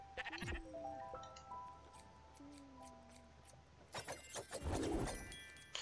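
Sheep in the video game Spiritfarer bleat several times, clear and close, with scattered clicks and a busy burst of game sounds near the end.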